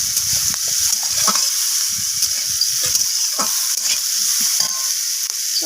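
Chopped onions frying in hot oil for a Bengali rohu fish roe and snake gourd chochchori, a steady loud sizzle with faint stirring clicks throughout, no voices.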